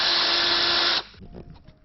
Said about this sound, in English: now we will begin our removal of the left side bolt